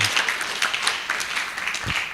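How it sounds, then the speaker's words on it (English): Brief scattered clapping from an audience at a keynote session, moderate and diffuse, fading in and out over a couple of seconds. "we can still give him a round of applause"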